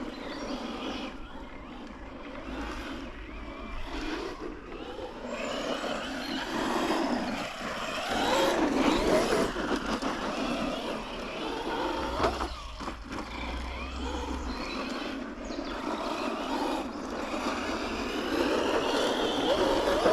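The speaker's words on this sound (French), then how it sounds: "On arrive à faire ronfler un peu le moteur maintenant qu'on a commencé à l'avoir en main" The brushless electric motor on a Traxxas Rustler 4x4 radio-controlled car whirs and revs up and down in surges, with wind noise and some talk over it.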